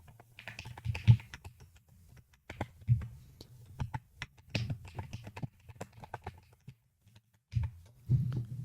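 Computer keyboard keys clack in short irregular bursts while code is typed, close and fairly quiet, with brief pauses between runs of keystrokes.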